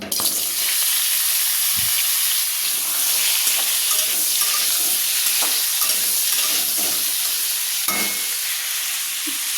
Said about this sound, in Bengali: তেলটা গরম হয়ে গেছে আমার কেটে রাখা এখানে পটল আর আলুটা দিয়ে নেব নিয়ে এটাকে ভেজে নেব